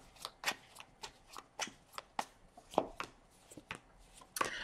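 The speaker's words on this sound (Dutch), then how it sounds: "Dus aan de kaarten schudden om te kijken wat deze week voor de leeuw gaat brengen." Tarot cards being shuffled close by: a rapid run of a dozen or so crisp flicking and slapping bursts at an uneven rhythm, with no talking.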